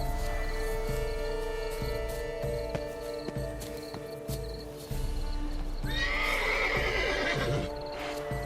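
A horse neighs loudly near the end over steady hooves clip-clopping and a constant low hum, in The Witcher 3: Blood and Wine.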